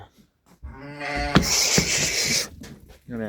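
Lambs and sheep at a livestock holding bleat in a short, close, wavering cry that rises after a brief pause and then breaks off, with no talk in the clip.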